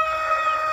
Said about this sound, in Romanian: Acolo, în capăt, un cocoș de Cochin